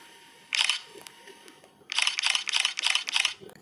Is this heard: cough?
no